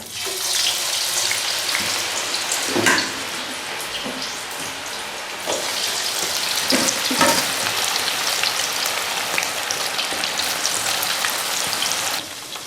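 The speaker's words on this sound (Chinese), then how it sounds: "油热，我们把排骨下进去。" Pork ribs dusted in dry starch deep-fry in hot oil, a loud, dense, steady crackling sizzle with brief bursts of sharper spattering, running continuously with no talk.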